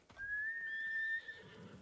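Horse neighing in the video game Ghost of Tsushima Director's Cut: one fairly clear whinny of about a second, then a soft trailing snort over quiet game ambience.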